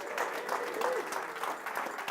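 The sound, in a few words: crowd cheering and applauding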